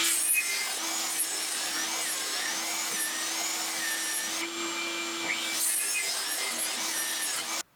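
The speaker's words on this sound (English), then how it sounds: "so I'm going to rip it off of this side" A saw rips a wood board lengthwise with a steady high whine and a constant motor hum for several seconds, then cuts off abruptly at the end.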